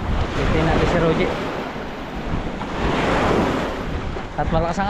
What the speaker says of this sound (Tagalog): At malakas ang alon.